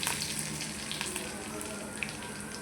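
Garlic and curry leaves sizzle in hot oil for a moth bean dal amti, with a steady close frying hiss and a few small scattered pops throughout.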